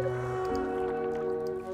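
Kalida, a creature in the video game The Whispered World, bubbles in water with a soft, wet squishing burble. The bubbling runs steadily for under two seconds against a droning tonal game background.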